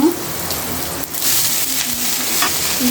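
Taro stolon greens frying in hot oil with chili and paste: a steady close sizzle and crackle with soft stirring scrapes, no voice.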